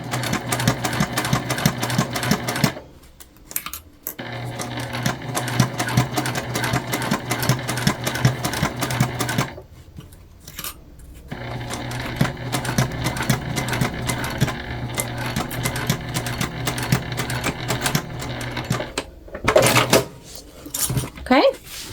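A sewing machine stitches through butterflied vinyl seams on a small east-west style wristlet, running in long steady bursts with two brief pauses, up close and fairly loud.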